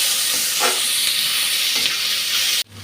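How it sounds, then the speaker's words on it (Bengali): Onions, bay leaf and green chilies fry in a pan for a prehydrated prawn and potato curry, giving a steady loud sizzle with a couple of faint stirring scrapes before it cuts off abruptly. "এগুলো একটু ভালো করে ভেজে নিই।"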